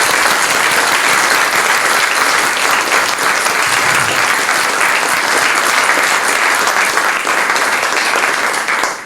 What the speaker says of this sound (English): So please, big round of applause for both our keynotes.